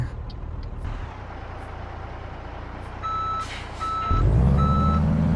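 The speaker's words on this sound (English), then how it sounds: "Back up to our trailer and connect." A truck reverses toward a trailer in Euro Truck Simulator 2. Three evenly spaced reversing beeps sound over a low idling rumble, then the diesel engine swells to a loud, deep drone as the truck backs up.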